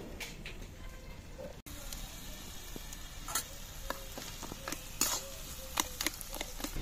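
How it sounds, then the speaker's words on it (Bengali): Ground cumin and coriander paste drops into a bottle gourd curry, which sizzles steadily in the pan while a spoon stirs and scrapes, with scattered clicks and a brief dropout, close up and constant. "জিরে ধনেটা বেটে নিয়েছি, এবার এটা লাউ ঘন্টতে দিয়ে দেবো।"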